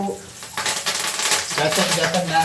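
Mustard seeds splutter in hot oil for a puffed rice tempering, dense crackling and popping that builds and stays busy, close and fairly loud with some kitchen clatter.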